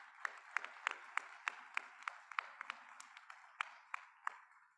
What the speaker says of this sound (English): can we also please get a big round of applause for the incredible food that we've all had a chance to sample today